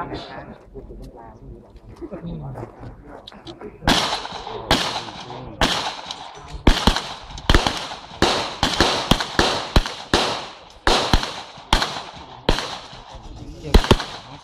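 Handguns fire at a sport shooting club, a run of sharp, loud reports at irregular intervals after a quieter opening, some in quick pairs, with people talking nearby and birds faintly audible.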